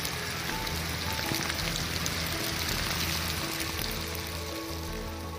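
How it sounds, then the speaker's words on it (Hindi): Torrential rain driven by strong wind in Rishikesh, a dense, steady hiss of downpour on surfaces with no pauses, loud and close throughout. "ऋषिकेश में तेज हवा के साथ मूसलाधार बारिश हुई"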